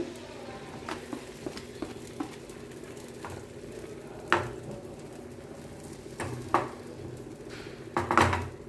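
A mung dal omelette cooks on a pan with a soft background sizzle, broken by several sharp clinks and scrapes of a utensil against the pan, close by.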